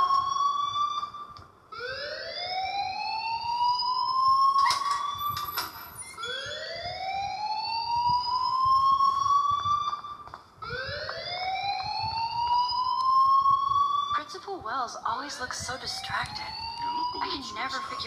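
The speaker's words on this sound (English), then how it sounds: "please turn off that alarm since that's your job" Rising, wailing alarm tones from a fire alarm in the video game Life is Strange repeat in long sweeping cycles, loud and continuous over a low background rumble.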